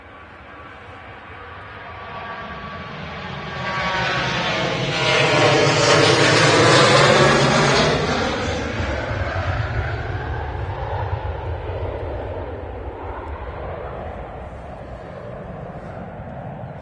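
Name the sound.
TUI Boeing 737 taking off from Manchester Airport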